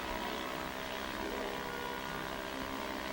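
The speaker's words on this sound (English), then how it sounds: "The drone of the motor startled into flight various waterfowl engaged in their morning's fishing." A fishing boat's outboard motor drones steadily and continuously on open water, a loud, unbroken engine hum with no pauses.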